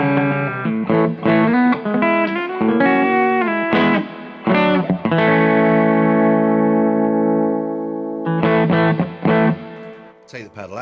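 An electric guitar played through a Wampler Paisley Deluxe overdrive pedal, giving a mid-heavy distorted tone; chords and single notes ring out loudly and close, with a long sustained chord in the middle and no talking.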